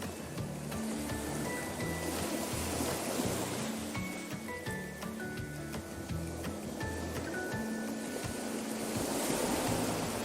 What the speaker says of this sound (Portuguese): olha as ondas, olha o barulhinho do mar